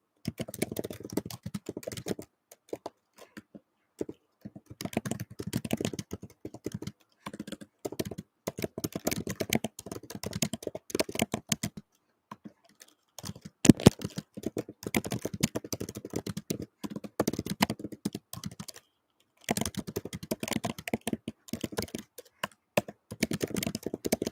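Rapid typing on a computer keyboard clatters on and off in bursts, close and clear, with a few short pauses between runs of keystrokes.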